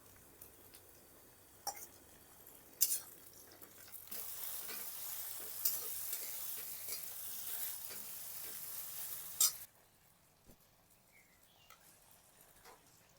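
Ground spices are added to fried onions for a thin goat mutton curry. After soft clinks, a close sizzle with stirring rises for several seconds, then drops away to near quiet with a few faint taps.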